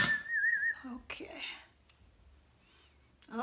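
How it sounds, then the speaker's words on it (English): A woman over seventy whistles a brief wavering tune close by, then stops; soft whispery breaths and small clicks follow in a quiet room. "Oh, there I go, I'm whistling."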